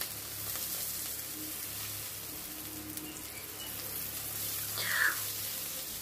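Ginger and chopped tomatoes fry in a pan for a vegetarian dish, a quiet, steady hiss of sizzling oil with a small flare of crackle toward the end.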